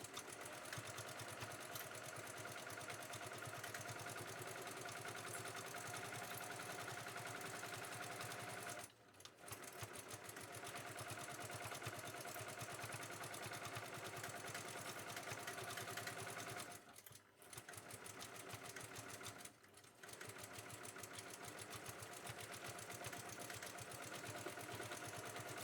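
A sewing machine runs steadily while stitching a fabric bag, a close, continuous whirring drone that stops briefly three times before resuming, with no talk.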